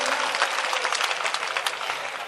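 A live audience at a Hindi-Urdu poetry recital breaks into loud, sustained clapping, a dense wash of many hands applauding evenly throughout and beginning to ease at the end.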